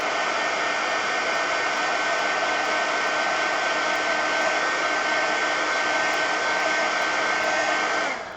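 A heat gun blows steadily at close range while drying a desk, a continuous loud whooshing roar with a faint tonal whine that runs unbroken for about eight seconds before cutting off at the end.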